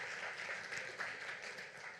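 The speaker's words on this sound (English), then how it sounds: "let's give him another round of applause" A church congregation applauds at a Sunday celebration service: steady, dense clapping from many hands fills the room at an even level for a couple of seconds.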